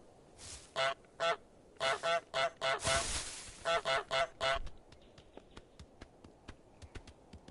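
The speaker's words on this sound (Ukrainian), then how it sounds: "Нажміть, щоб гоготать." A goose in Untitled Goose Game honks repeatedly in quick bursts, loud and close, then trails off into softer clicks and taps.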